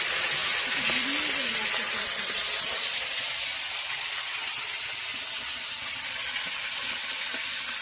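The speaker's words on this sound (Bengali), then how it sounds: "সুন্দর লাল লাল করে ভাজি।" Small fish sizzle and spit in hot oil, a steady broadband crackle that fills the whole clip, close and loud. A brief murmur of voices passes near the start.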